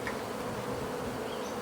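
A swarm of honey bees hums steadily and loudly, a dense continuous buzz from many insects close by with no pauses and no voices.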